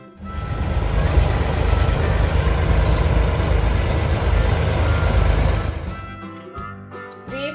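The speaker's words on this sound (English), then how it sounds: "B for bulldozer." A heavy engine rumbles loudly and steadily, then cuts off near the end, leaving a few clanks and knocks.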